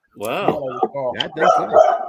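A dog barks and yips close by in a home during a birthday get-together, tangled with people talking over it.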